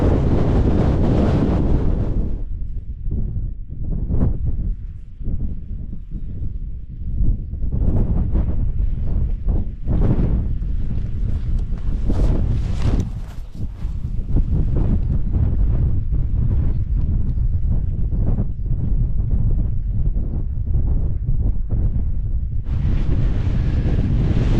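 Strong gusting wind on an exposed hill along the Cumbria Way buffets the microphone in a continuous heavy roar that swells and dips, with no speech over it.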